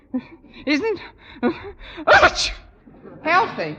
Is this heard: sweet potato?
no